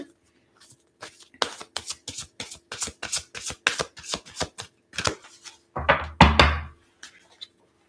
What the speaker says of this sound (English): let's take a few more cards for Cancer